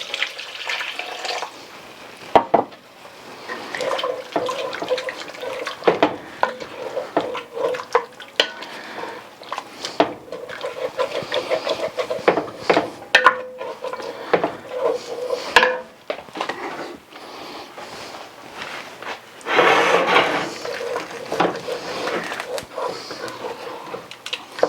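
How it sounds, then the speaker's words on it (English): A spoon stirring and scraping chicken and dumplings in a pot, heard as repeated clinks and scrapes against the pot with some liquid sloshing, under intermittent talk. "Just keep adding it, stirring and scraping."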